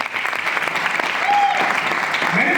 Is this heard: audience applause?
yes